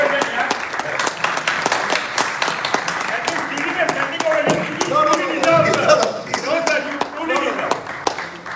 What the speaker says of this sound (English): And we have a huge round of applause for Mr. Sardesai.